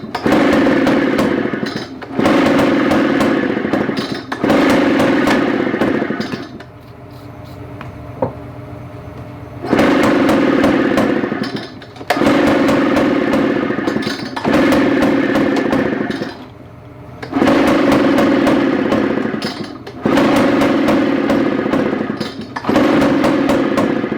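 A Craftsman backpack blower's small two-stroke engine roars loudly in sustained bursts, cutting out and restarting several times as it struggles to keep running without a fuel supply.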